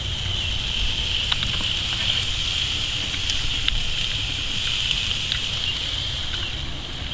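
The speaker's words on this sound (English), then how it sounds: "We're going to raise the charcoal right now. Get a good sear. And get in here and listen to that real quick there." Ribeye steak searing on a charcoal grill gives a steady, close sizzle and hiss with faint pops and crackles throughout, and no voices.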